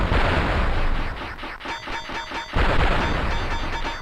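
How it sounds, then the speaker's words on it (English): Explosions and gunfire from the Amiga shoot-'em-up SilkWorm, a dense run of rapid blasts and booms that keeps going for the whole stretch, loud and continuous, easing briefly in the middle before surging again. "We're blowing up and they go boom."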